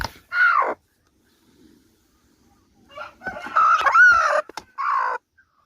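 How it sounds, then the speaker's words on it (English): Native chickens foraging for bugs, worms and grain: a rooster crows loudly and close, with clucks and short calls separated by quiet gaps. "Here's my native birds foraging for some bugs and worms and grain diet"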